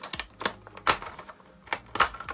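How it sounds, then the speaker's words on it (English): A plastic clamshell pack holding Warhammer Kroot miniatures is pulled apart by hand, giving a handful of sharp, separate crackling snaps with short quiet gaps between them, close up and with no talking. "And then just pull it apart as well"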